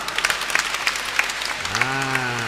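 A church congregation claps for a child, steady close applause of many hands, with a voice briefly speaking near the end.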